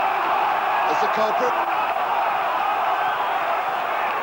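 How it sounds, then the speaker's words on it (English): Crowd at a 1985 New Zealand versus Australia rugby league test roaring after a penalty, a steady, dense wash of noise from a large stadium under a commentator's voice. "the roar from the crowd is off for Steve Roach"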